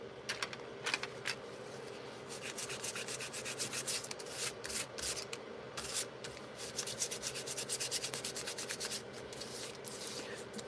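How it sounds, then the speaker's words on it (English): Paper structural pieces being sanded by hand, a steady scratchy rubbing with repeated short strokes that come in bursts, close and fairly quiet, with no talking. "I am sanding them down a lot because the glue has to adhere better"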